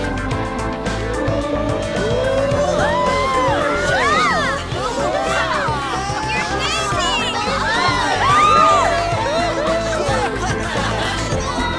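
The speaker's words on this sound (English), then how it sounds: "Everyone's cheering on." Cheering crowd in the video game Persona 5 Royal, a dense wash of excited voices and squeals filling the scene at steady volume, with bright music-like tones mixed in.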